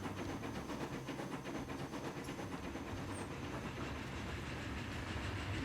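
A slow train climbs a hill in the rail-management game Transport Fever 2, a low continuous rumble with faint rhythmic clicking and hiss. It holds steady and fairly quiet throughout.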